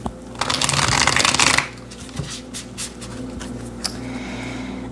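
A Muse Tarot deck is shuffled close up, a dense riffling rustle lasting over a second, then softer card taps and slides against a faint steady hum.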